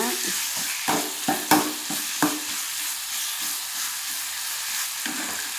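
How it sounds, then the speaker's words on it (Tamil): Tomatoes sauté in a pan for a tomato-onion chutney, giving a steady close sizzle with several sharp scrapes and clinks of a spoon stirring in the first few seconds, then a softer continuous fry. "தக்காளி வதங்கிட்டுருங்க வதங்கிடுச்சுங்க"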